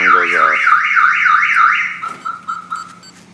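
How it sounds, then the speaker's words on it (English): A Viper 5901 alarm on a Jeep Wrangler blares its loud, close siren, rising and falling in rapid sweeping cycles before switching to a steady tone broken by short chirping pulses. "alarm goes off."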